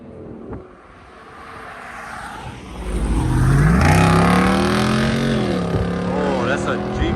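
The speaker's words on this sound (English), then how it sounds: "that's a Jeep Wrangler right there" Jeep Wrangler engine at a car meet, rising to a loud roar partway through and holding, with the pitch shifting as it revs, crowd chatter and talk over it.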